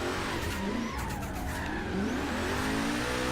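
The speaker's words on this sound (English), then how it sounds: "I used to actually have a Mustang on here that I use exclusively for drifting like this." Tires squeal and an engine roars steadily as a car drifts through Forza Horizon 3, a continuous loud skid with revving throughout and no voices.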